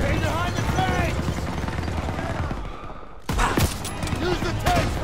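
MG-42 machine guns firing in Call of Duty WW2 during Operation Cobra, rapid gunfire rattling under shouted battlefield voices, then a sharp loud burst of shots after a brief lull.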